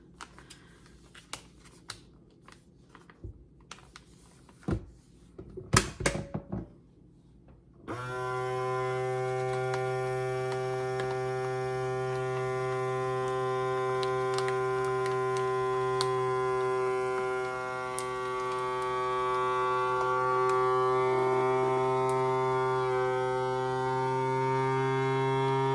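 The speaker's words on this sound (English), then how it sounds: "And now we're just going to vacuum seal that up." A vacuum sealer draws air from a bag of sliced squash and zucchini, opening with a few sharp clicks and taps before a steady, loud motor drone with a strong pitched hum runs on continuously to the end.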